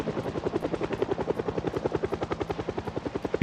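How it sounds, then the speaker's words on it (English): A helicopter flies overhead in Project Zomboid, its loud, steady rotor chop pulsing rapidly and evenly throughout, close and dominant with no speech. "When is this helicopter gonna run out of gas?"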